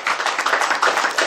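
Brisk applause from a crowd at a youth football cup award ceremony, rapid overlapping hand claps in a steady, close patter.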